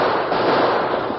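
A gunshot sound effect in an old Western radio drama about a wild horse round-up, a dense, crackling burst that fills the whole moment, close and loud without any voices.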